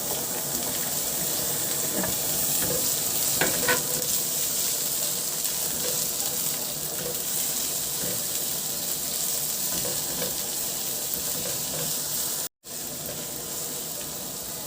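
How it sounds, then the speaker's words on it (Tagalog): Garlic and onion sautéing in hot oil for Filipino pork adobo, a dense, steady sizzle with faint stirring clicks throughout and a brief dropout near the end. "Magpainit na ako ng mantika at igisa ko yung bawang. Maglagay na rin ako ng sibuyas."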